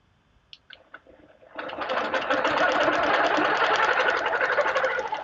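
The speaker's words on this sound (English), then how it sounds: "I'm going to position it so I just stitch up and over," A long arm quilting machine stitching in small circles on a quilt, starting after a few light clicks and then running as a steady, close, rapid mechanical whir for several seconds.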